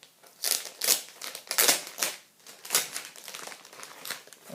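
A plastic record bag being handled and unfolded, giving a run of loud, close, uneven crinkling bursts.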